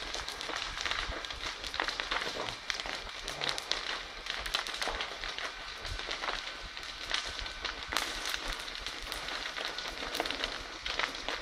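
Wood burning in a large outdoor fire during firefighting, with dense continuous crackling and popping throughout, loud and close, with occasional sharp snaps.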